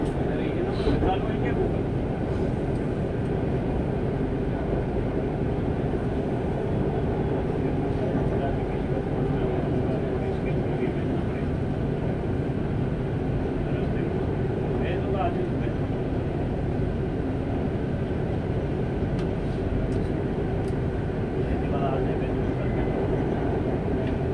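Steady rumble and rolling noise inside a Mumbai Metro train carriage in motion, constant and loud throughout with a few faint clicks and rattles, and no clear voice over it.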